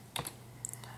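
A few quick keystrokes on a computer keyboard as a command is typed at a Windows command prompt, soft clicks close by over a low steady hum.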